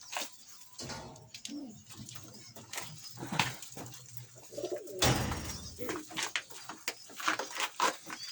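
Soft Van pigeon cooing nearby in a loft, repeated low warbling calls amid rustling and shuffling in an enclosed space, with occasional faint voices.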